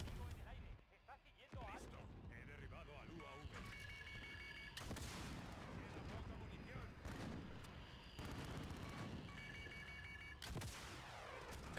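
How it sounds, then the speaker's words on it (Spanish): Rocket launcher blasts and heavy gunfire boom through a Modern Warfare match, with dense repeated explosions and crackling battle noise, loud and busy, while a player talks over the action. "¿cuántos cohetes necesitas para reventar la mierda esa?"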